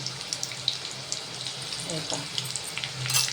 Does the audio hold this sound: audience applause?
no